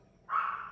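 A dog barks once, sharp and fairly close, in an indoor setting, a short single yelp standing alone without talk.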